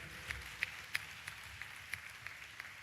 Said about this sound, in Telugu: చప్పట్లు కొడుతూ స్తోత్రాలు చెప్పు.